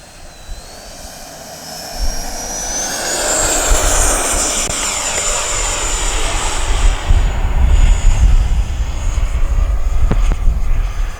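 A Freewing Yak 130 radio-controlled jet with a 70mm ducted fan flies past. Its whine rises and swells into a loud, rushing roar that peaks close by, then holds steady with no talk.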